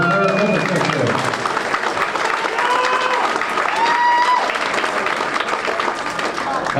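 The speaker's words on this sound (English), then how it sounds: "A round of applause for our trumpet section." An audience at a high school jazz band concert during a fish fry event applauds the trumpet section, with dense, loud, sustained clapping and crowd noise filling the whole stretch. Some voices mix in.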